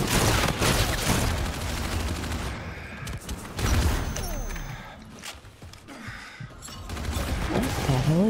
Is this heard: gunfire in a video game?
yes